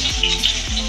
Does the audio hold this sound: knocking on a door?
no